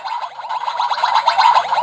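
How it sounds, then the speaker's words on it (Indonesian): A bright electronic effect from a DX Gochipod Kamen Rider Gavv transformation belt toy warbles with rapid chirping, sweeping tones, loud and close, playing continuously without voices. "ini suara Gochizo masuk ke Gochipotnya lagi"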